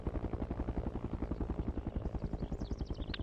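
A Cobra attack helicopter passes overhead with a steady, rapid rotor thump, loud and even throughout, with a faint whine rising near the end.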